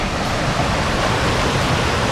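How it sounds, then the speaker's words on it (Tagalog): Rushing water of the Agbobotilya River, a loud, steady, broadband roar filling the whole moment without pause, close by and with no voices. "Grabe yung tubig niya."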